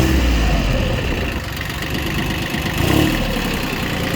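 ISEKI TU1500F four-wheel-drive mini tractor engine idling just after starting, a steady close diesel chug with a slight knocking texture and a brief swell near the end, no talk.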